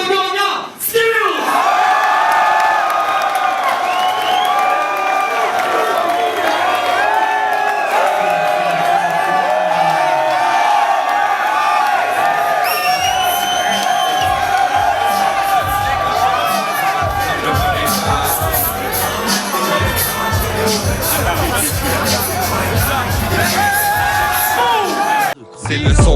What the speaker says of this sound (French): Faites du bruit pour le gagnant, Skills!